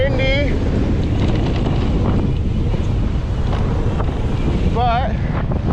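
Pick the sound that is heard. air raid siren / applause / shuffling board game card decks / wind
wind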